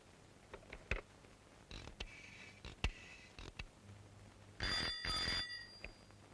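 A telephone bell rings in short bursts while a call is being placed, faint and somewhat distant, mixed with light clicks and handling noises.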